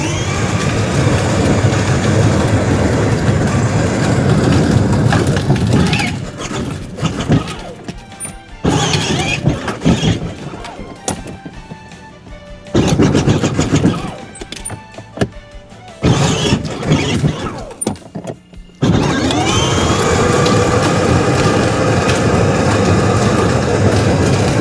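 Restored children's Power Wheels ride-on toy car driving forward and backward, a loud steady motor whine with rattling, interrupted by stops and bursts of knocks, then running continuously again.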